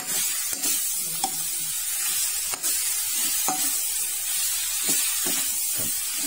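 Bird meat being stir-roasted in a pan over low heat, a continuous close sizzle and hiss broken by sharp clicks and scrapes of stirring at irregular intervals.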